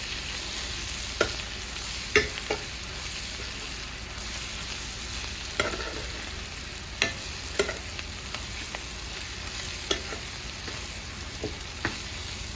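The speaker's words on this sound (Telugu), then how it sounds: "ఉల్లిపాయలన్నీ మంచిగా మగ్గిపోయినాయి" Sliced onions with two spoons of chili powder sautéing in a pan, a steady close sizzle broken by scattered scrapes and clicks of a stirring spoon, no voices.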